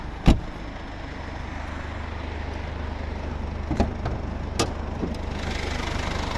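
A 2017 Mercedes-Benz C 220d W205 diesel with 4MATIC and 9G-TRONIC idling steadily with its hood open, a smooth continuous engine hum broken by a few faint clicks and knocks.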